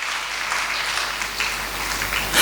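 A congregation at a Sunday church service in Hastings Chapel claps hands together in dense, sustained applause, loud and close, rising slightly at the end, with no speech.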